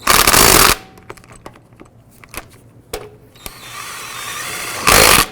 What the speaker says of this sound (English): Then we're going to go ahead and snug up the lug nuts.